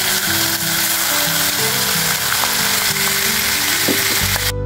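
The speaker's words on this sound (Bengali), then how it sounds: "এখন পেঁয়াজ বাটাটা 1 মিনিটের মতো তেলে ভেজে নিতে হবে।" Onion paste fries in hot oil with bay leaves after chicken has been fried, making a loud, continuous close sizzle and crackle that stops abruptly at the end.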